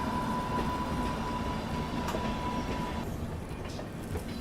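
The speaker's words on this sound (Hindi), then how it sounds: "बाकी यहाँ कोई और ट्रेन अराइवल ले रही है।" A train pulls in on the neighbouring track behind a WAP-7 electric locomotive, its steady rumbling rail roar and faint wheel clatter loud and close throughout, with a high squealing tone dropping away partway through.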